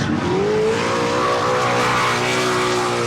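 A Nissan S15 drift car screams at full throttle on Manfeild circuit during drift qualifying, a loud sustained engine wail rising in pitch and holding close and unbroken.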